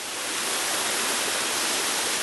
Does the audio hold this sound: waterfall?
yes